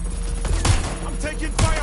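Video game gunfire in Watch Dogs Legion: dense, loud bursts of shots over a low rumble, with a voice calling out during the volley.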